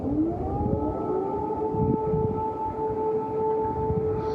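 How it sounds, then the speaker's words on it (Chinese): An air raid siren sounds over Kyiv: a sustained civil-defence wail that rises at the start and then holds a steady, penetrating tone throughout, heard alone without voices. "乌克兰首都基辅伫初4饭店嘛雄雄放送空袭警报"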